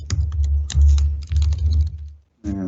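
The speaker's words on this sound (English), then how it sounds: "that's a lot of typing" Rapid typing on a computer keyboard, a dense run of close, loud key clicks that stops briefly before a short final burst of keystrokes.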